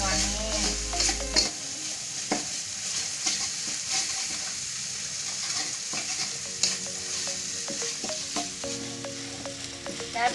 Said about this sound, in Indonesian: Diaduk terus sampai kering bumbunya Bunda, sampai matang ya.